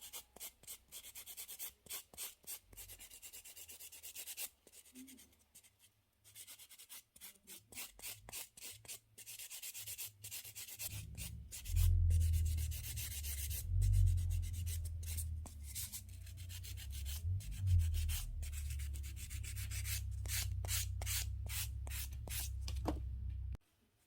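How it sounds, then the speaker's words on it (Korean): Close, rhythmic rasping of a file sanding across the whole surface of a gel nail, in short repeated strokes that turn denser and louder midway, without speech. "그래서 전체 샌딩."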